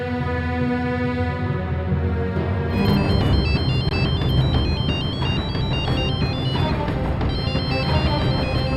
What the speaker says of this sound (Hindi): मैं मोक्ष को फोन लगाकर पूछती हूँ कि वो कहाँ है।